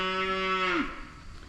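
Cattle on a ranch give a single long, loud moo that holds a steady low pitch before sliding down and fading, heard close with no voices.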